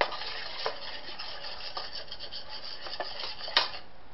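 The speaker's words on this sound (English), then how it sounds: "so I'm going to add flour and stir just to cook off the flour taste" A spoon scrapes and stirs flour into melted butter in a pot on medium heat for mac and cheese, a steady rasping rub with occasional clinks against the pot, close and alone.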